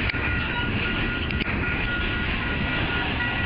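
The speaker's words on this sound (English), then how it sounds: "This is probably the other half of the train." A Wheeling & Lake Erie freight train rolls past in rural Ohio, giving a continuous loud roar and rumble of cars on the rails, steady and near throughout.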